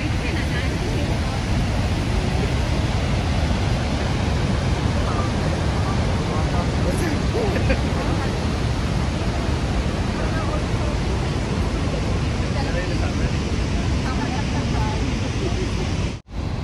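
Niagara Falls roars as a dense, continuous rush of water, loud and close, filling the whole stretch with a steady broadband wash, with voices buried underneath.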